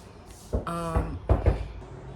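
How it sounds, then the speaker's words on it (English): A child knocks on a household door from the other side, giving a few dull thuds with a rattle of the door, alone and fairly quiet against room noise. "that was my daughter knocking"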